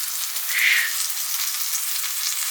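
A steak sears in a hot pan, giving a steady, close, bright hiss that holds evenly throughout with a slight swell near the start and no talking.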